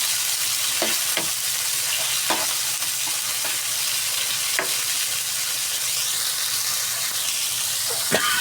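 Chopped tomatoes fry in a pan with a steady, close sizzle and hiss, broken by several sharp clicks and scrapes of stirring, with no talk.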